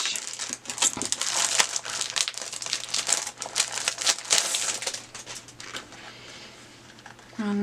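Sheets in an A5 paper collection pack are handled and crinkled up close, with bursts of crackly rustling and flicking that ease off toward the end, then a sudden louder shuffle.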